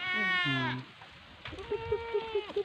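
Mixed-breed goats on a goat farm bleat in loud, wavering cries, first a pair of long calls close by, then a quieter run of short, pulsing bleats.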